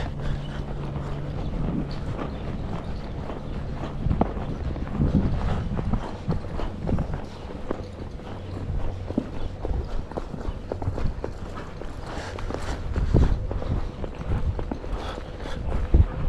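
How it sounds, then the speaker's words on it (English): A reining horse lopes in counter canter, its hooves thudding in a steady three-beat rhythm close by, with light wind noise over the microphone. "This counter canter is loping really nicely now"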